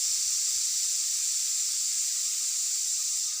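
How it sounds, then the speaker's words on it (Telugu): Beans frying in a pan, a steady close sizzle and hiss that holds unbroken and fairly loud throughout. "ఇవి కొంచెం వేగుతున్నాయి"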